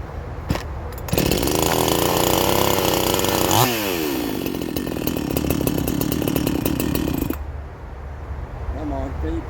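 An Aldi Gardenline chainsaw roars close by at full throttle for several seconds, then drops back to a rough idle as the engine winds down. Brief handling knocks come before it starts.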